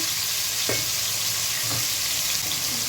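Potato pieces fry in oil in a pan with a dense, steady sizzle that stays close and loud, broken by a couple of soft stirring scrapes, with no voices.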